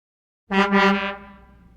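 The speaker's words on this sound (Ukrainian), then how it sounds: "Це сигналить вантажівка." A single deep, brassy truck horn blast sounds loudly and briefly, then fades into a lingering tail.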